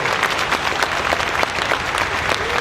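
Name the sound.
concert audience applause for honor band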